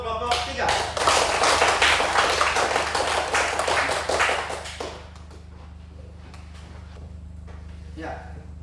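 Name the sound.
applause for group 3 in a classroom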